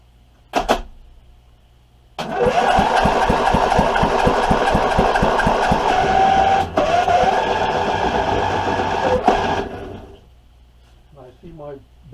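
An abandoned Troybuilt 23hp V-twin engine cranks with a rapid, even chugging for several seconds, then fires and runs loud and rough at close range before cutting off, with brief talk at the end.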